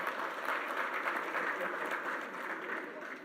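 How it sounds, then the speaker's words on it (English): Attendees at a business conference on managing cyber risk clap together in a hall, producing a steady, even wash of applause that stays moderately distant and fades slightly at the end. "Thank you all the Qualys people for clapping."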